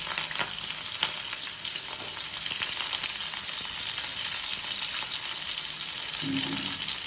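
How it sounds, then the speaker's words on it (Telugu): Onions fry in hot oil with cinnamon and cardamom, a loud, even crackling sizzle close by, punctuated by a few sharp spatula clicks and stirring scrapes, with no voices. "ఇప్పుడు ఉల్లిగడ్డ వేసి వేసుకోవాలి"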